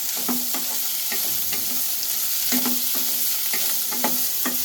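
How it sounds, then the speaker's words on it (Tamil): Bitter gourd sautés in a hot kadai, with a steady sizzle broken by regular scraping strokes of a stirring spoon, close up and with no talking. "இதை கொஞ்சம் நல்லா வதக்கி விட்டுருங்க அந்த கலர் கொஞ்சம் சேஞ்ச் ஆகிற வரைக்கும் நல்லா வதக்கி விட்டுக்கணும்"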